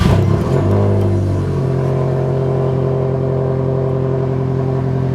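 A Ford car engine idles after a brief rev at startup, settling into a steady, loud low rumble as it warms up, close by and without any talking.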